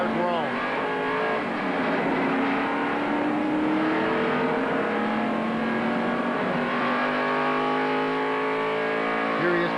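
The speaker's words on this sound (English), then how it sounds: "running around the flat part of the racetrack, getting it back up to speed." A stock car at the 1993 Daytona 500 pulls out of the pits and accelerates back up to speed, its engine note rising steadily and loudly for several seconds, with a second engine sweeping past near the end.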